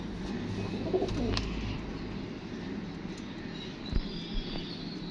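Pigeons coo at a loft where pigeons are kept, including a bird of wild breed, a steady low murmur of calls at moderate distance with a few brief knocks.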